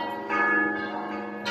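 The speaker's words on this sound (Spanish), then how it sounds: "Ya están tocando las campanas." Church bells ring out in the distance, a sustained metallic tone with a couple of fresh strikes swelling over a steady hum of outdoor ambience.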